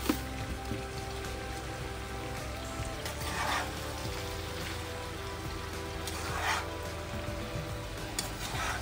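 Ingredients for homemade sambar dal sizzle and fry steadily in a pan while being stirred, a continuous crackling hiss with a few louder scraping swells, fairly close and without voices.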